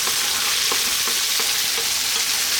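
Eggplant and tomatoes sizzle steadily in a hot pan while a spoon stirs them, with a few soft scraping knocks rising out of the constant frying hiss; no one speaks.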